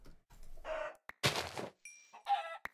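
Video game chickens cluck in short separate bursts, several squawky calls with quiet gaps between them, heard clearly and alone without talk.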